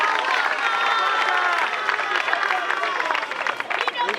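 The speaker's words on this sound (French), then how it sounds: "Il faut l'applaudir, non?" An audience at an awards ceremony gives sustained applause, a dense wash of clapping with some crowd murmur, loud and continuous for a few seconds.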